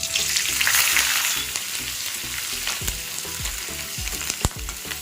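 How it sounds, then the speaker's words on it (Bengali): Chopped onion added to hot oil where garlic has just fried, for home-style chili chicken: a loud, dense sizzle that settles into steady crackling, with spatula stirs and scrapes close by. "এরপর আমি এর মধ্যে দিয়ে দেব পেঁয়াজ কুচি"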